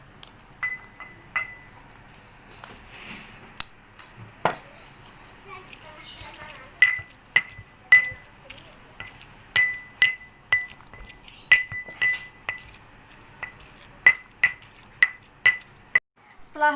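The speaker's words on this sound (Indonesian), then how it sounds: "Yang kedua, haluskan tahu A." Tofu is mashed in a glass for a borax test, sharp repeated clinking taps of a utensil against glass in an irregular rhythm, with faint children's voices in the background.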